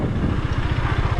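A KTM motorcycle being ridden, its engine producing a steady, close, low rhythmic throb of rapid firing pulses with no one talking.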